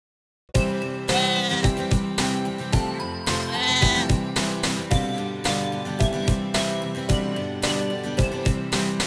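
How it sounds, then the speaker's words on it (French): Bleating from a black sheep rides over a bouncy children's nursery-song backing with steady, rhythmic beats, the animal calls standing out clearly in the mix. "Bébé mouton noir, as-tu de la laine?"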